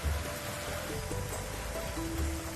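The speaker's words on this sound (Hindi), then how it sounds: "मंदिर के पवित्र शिखर पर हो रही मूसलाधार बारिश को देखकर लोग मंत्रमुग्ध हो गए।" Torrential rain pours down on the Somnath temple, a steady, dense, unbroken hiss of falling water filling the whole moment with no voices.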